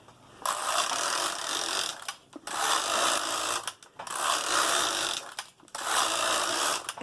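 A knitting machine carriage runs back and forth knitting braided cables, giving four long rasping mechanical passes separated by short pauses, steady and fairly close with no talking.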